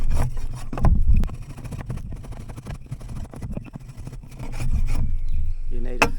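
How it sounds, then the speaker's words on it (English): Sharp machete cutting a V notch into a wooden bow drill hearth board, a string of uneven scraping and chopping strokes with dull knocks, loud and close. "You need a fairly sharp machete or whatever you use to do it like this"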